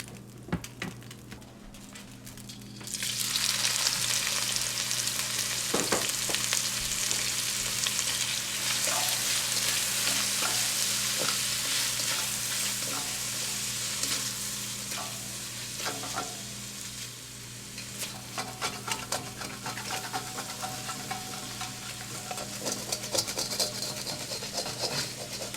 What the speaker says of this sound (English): Maybe I'll just add a touch more oil. We're gonna put the shrimps on next.